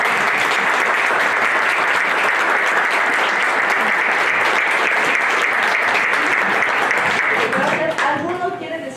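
A crowd claps for about seven seconds at a talk about tamales, a loud, dense and steady round of applause that tapers away near the end as a voice begins to speak.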